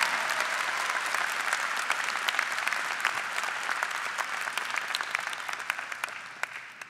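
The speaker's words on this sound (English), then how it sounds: "Please join me in applauding this wonderful accomplishment." A commencement audience at a chemistry and biochemistry graduation applauds the graduates, a continuous wash of clapping from a large crowd with a few sharper individual claps standing out.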